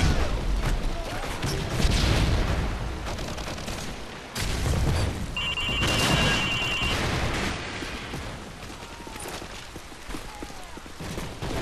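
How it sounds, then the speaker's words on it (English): A Predator missile strike in Call of Duty Modern Warfare 3 lands as a heavy burst of booms and crashing blasts amid ongoing gunfire. A faint voice sounds underneath the din. "Friendly Predator missile inbound."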